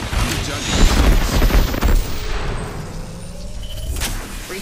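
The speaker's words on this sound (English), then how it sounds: "I am taking fire." Loud rapid gunfire bursts in a shooter video game, dense shots crowding the first two seconds, then thinning into scattered distant pops and fading rumble.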